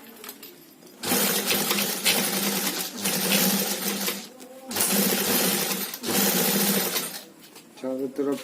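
A sewing machine stitches all around a homemade tiffin lunch bag in long, loud mechanical runs with short pauses between them, and a voice briefly speaks near the end.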